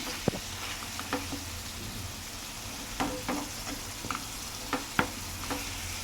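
Curry with tomatoes stirred and mixed in a pan, quiet scraping and occasional spoon taps over a low, steady sizzle.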